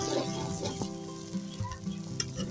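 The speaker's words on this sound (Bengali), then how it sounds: "এইভাবে করে ভাজা ভাজা করে তেলটা আমি কিন্তু একদম বের করে ফেলবো" Beef tripe frying in oil as the gravy dries down, a close continuous sizzle with a few faint clinks and crackles over a short stretch, no talk.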